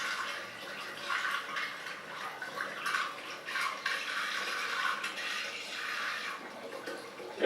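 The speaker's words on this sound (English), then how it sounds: "adding in the last gallon of hard cider" Hard cider pouring steadily into a carboy, a continuous hollow rushing gurgle of liquid filling the vessel, close and fairly loud, with no talk.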